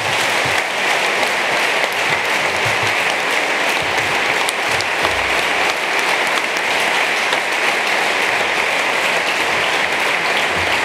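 Dense, loud audience applause fills an awards dinner hall after a speech, a continuous clapping roar with no voices over it.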